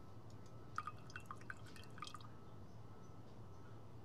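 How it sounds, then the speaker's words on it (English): Quiet, close drips of water fall from photo paper being lifted from a tray in a darkroom video game, several small irregular plinks over a low steady hum. "Water drips from the paper as I blindly pick it up"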